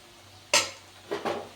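A metal lid settles onto a pan of egg rice with a sharp clank, followed by two softer knocks as it is adjusted, over faint background hiss.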